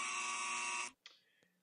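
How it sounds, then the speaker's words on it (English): A single loud electronic buzzer sound effect blares steadily for nearly a second, then cuts off abruptly, followed by a brief, fainter electronic tone. "I'm going to hit the sound effects here, my dinger, my buzzer."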